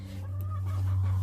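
Mother hens in a nest with chicks hatching from eggs, soft clucking over a low steady hum, close and fairly quiet, with a faint high peep briefly audible.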